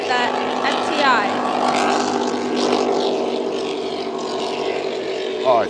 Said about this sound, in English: it's just an awesome boat to watch run down the backstretch here